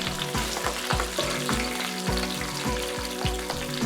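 Kai lan stir-fried with chopped garlic in hot oil over high heat, a loud continuous sizzle with rhythmic scraping strokes of a spatula against the pan about every third of a second.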